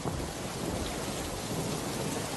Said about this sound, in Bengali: আকাশে জোরে বিদ্যুৎ চমকাতে লাগলো, মুষলধারে বৃষ্টি শুরু হলো, জোরে হাওয়া বইতে শুরু করলো।